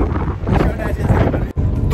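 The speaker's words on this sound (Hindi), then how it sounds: "आने वाली हवा चल रही है" Cold wind roars steadily across the microphone on a mountain road toward Srinagar, a loud, continuous gusting rush with a brief dropout near the end.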